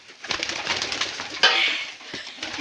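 Pigeons coo steadily in a loft, soft throaty calls overlapping close by, with one louder burst midway and faint rustling underneath.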